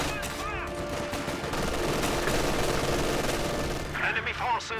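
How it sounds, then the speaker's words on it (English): Machine gun fire from the World War II strategy game Company of Heroes 2 rattles steadily through the whole stretch, loud and dense, with other battle noise mixed in and a short burst of effects near the end. "he's not going to be doing too well with two machine guns shooting at him"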